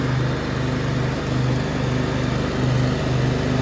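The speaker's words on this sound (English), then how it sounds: "Engine's running fabulous." A Briggs & Stratton V-twin riding lawn mower engine, freshly fitted with new pushrods, head gaskets, cylinder head and carburetor, runs steadily at close range with a loud, even mechanical drone and no talking.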